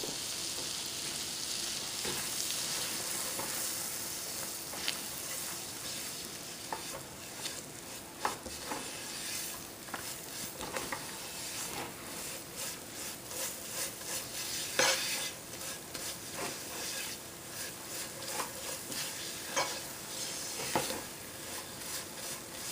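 Flour for a corn pie cooks in a pan with soft, continuous sizzling and irregular stirring scrapes, close and moderately quiet, with no one talking.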